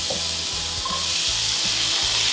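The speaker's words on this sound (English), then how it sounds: "so we're just gonna drop in our onions" Chopped onions searing in avocado oil in a hot pan, a loud close sizzle with a repeating low rumble underneath, continuous throughout with no voices.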